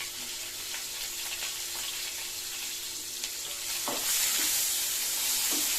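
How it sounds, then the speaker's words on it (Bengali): Bitter gourd fries in hot oil in a pan for shukto, giving a continuous close sizzle with occasional stirring scrapes and small clinks, the frying growing louder toward the end. "এবার আমি এতে দেব উচ্ছেগুলোকে আমি ভেজে নেব।"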